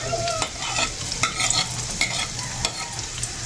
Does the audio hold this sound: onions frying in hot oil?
yes